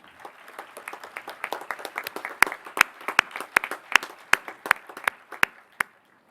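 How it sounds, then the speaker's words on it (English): Audience clapping for graduating students at a school graduation ceremony starts as scattered claps and settles into a rhythmic unison beat of sharp, evenly spaced claps that fade at the end. "Please give these students who have spent so much time at our school one more big round of applause."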